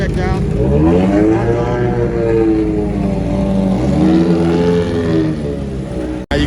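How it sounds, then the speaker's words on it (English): Loud race car engines revving and whining close by at the Honda Indy 200, pitch sweeping up and down as cars pull into pit lane, continuous roar with a brief cutoff near the end. "All these guys are pulling in to get their cars checked out."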